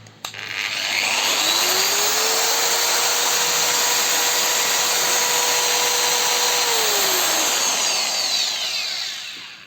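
A freshly repaired ProCraft PW2200ES angle grinder whirs up to speed, holds a loud steady high-pitched whine for several seconds, then winds down.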